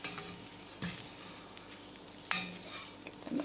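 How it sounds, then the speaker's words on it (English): Gobi chana curry being stirred in a pan, with a soft sizzle of frying underneath and a couple of sharper spoon scrapes against the metal, close and fairly quiet. "Give them a good stir"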